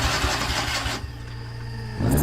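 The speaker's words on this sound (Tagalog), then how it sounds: "Eto na, nag-start na yung sasakyan ko." A car engine in a horror video game cranks and catches, loud low rumble at first, then a quieter hum, then a renewed surge as it fires up, with no talking.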